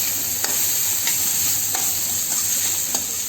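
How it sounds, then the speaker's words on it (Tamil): Carrots, beans and cabbage sautéing for a Sourashtra poriyal, with a loud, steady sizzle and regular light scrapes of a stirring spoon in the pan. "ஒரு 5 நிமிஷம் நல்லா வதக்குவோங்க."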